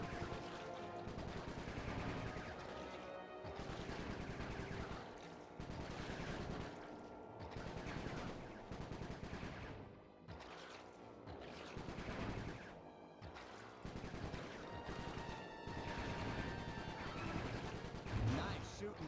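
Dense video-game gunfire from Sly 3 rattles through a long stretch of rapid, overlapping bursts and volleys, loud and near, with brief lulls between the heavier clusters.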